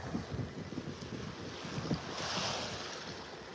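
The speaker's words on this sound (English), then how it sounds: "Nice little breeze coming out of the northeast." A northeast breeze blows across a foggy beach in North Naples, Florida, with steady gusty rush and low buffeting on the microphone, mixed with soft surf, no voices.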